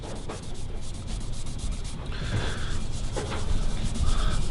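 A cloth rubs back and forth over a guitar's dried-out fretboard and metal frets, a close, continuous scrubbing swish with repeated strokes that grow slightly louder.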